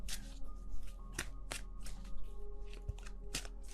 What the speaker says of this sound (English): let's put down the other cards.